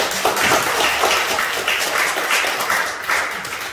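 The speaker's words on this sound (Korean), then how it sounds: "이렇게 박수를 한번 환영하겠습니다" A church congregation at a Sunday worship service in Jeju claps steadily to welcome newcomers who have stood up, a dense, even patter of many hands filling the room throughout with no talking over it.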